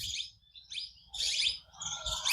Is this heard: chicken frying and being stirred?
no